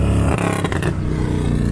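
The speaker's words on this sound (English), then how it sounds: "Loud motorcycles and traffic coming by." Loud motorcycles and traffic roaring past on I-35 near Gainesville, Texas, heard from the roadside as a dense, continuous engine rumble with a revving swell that fades slightly toward the end.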